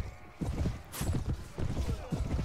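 Rapid clip-clop of horse hooves from cavalry in a Clash of Kings video game battle, rhythmic thudding bursts at moderate level amid other battle noise.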